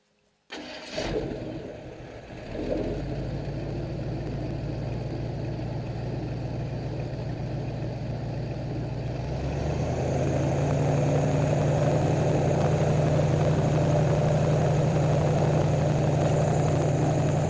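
An airboat engine on a Florida swamp tour starts with a sharp bang, then settles into a loud, steady roar and idles before revving higher, droning close and continuous to the end.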